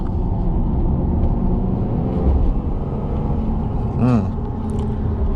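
A Ford F150 EcoBoost pickup rumbles steadily from inside the cab while accelerating hard, its engine note holding low and even with a brief rising whine as it drops gears near the end.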